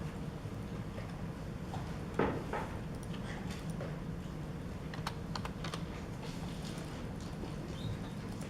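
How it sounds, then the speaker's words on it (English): Fingers tap steadily on a computer keyboard, a soft continuous patter of clicks with a few sharper, louder keystrokes standing out, close by over a low room hum. "pitter patter of the keyboard stop."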